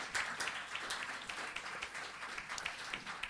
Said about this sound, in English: Big round of applause for Niamh Hyland.